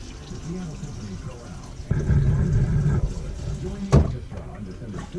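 About a gallon of water is poured down into the black tank of a Keystone Cougar RV, a rushing splash for roughly a second mid-way, over a low background rumble and a voice.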